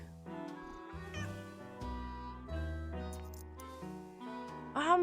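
A cat meows in the video game Nancy Drew: Secret of the Old Clock, its cry blending with steady game music and a sharper yowl near the end.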